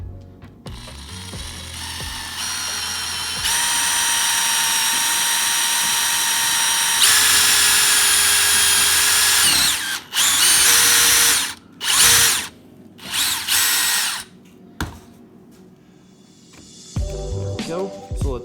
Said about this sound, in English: And drill the second hole.